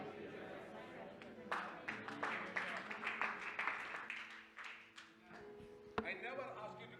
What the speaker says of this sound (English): I never asked you to clap your hand.